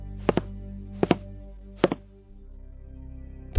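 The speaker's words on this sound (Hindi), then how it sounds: "कदमों की आवाज और तेज होती जा रही थी।" Footsteps used as a sound effect in a Hindi horror story come as three heavy, double-tapped thuds spaced evenly about a second apart, over a low steady hum, then give way to a rising murmur.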